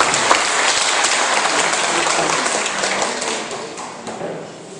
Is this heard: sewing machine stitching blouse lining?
no